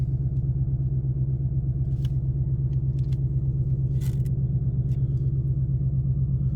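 A 2018 Ford Mustang GT Fastback V8 idles steadily with a deep, even rumble, close and unbroken, with a few faint clicks and taps over it.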